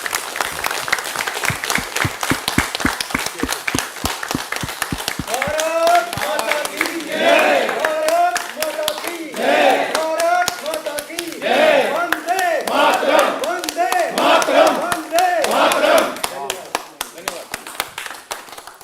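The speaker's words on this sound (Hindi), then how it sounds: "आप लोग जोरदार तालियों से स्वागत करें" Studio audience at a Hindi TV interview applauds guests Vivek Agnihotri, Anupam Kher and Pallavi Joshi with loud, sustained clapping throughout, while a voice speaks over it in welcome.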